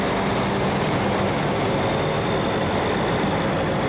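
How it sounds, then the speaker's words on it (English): A heavy hauler truck driving past in a Loyalty Day parade gives a steady, loud, broad engine and road roar that fills the whole stretch with no break. "And then a heavy hauler here from Fabian's, truck 39."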